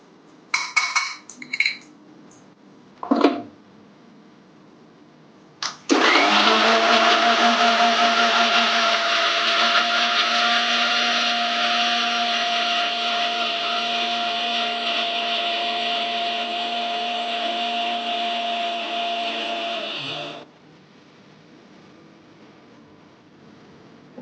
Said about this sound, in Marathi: तर आता मी रवा जरा मोठा आहे ते जरा बारीक करून घेते.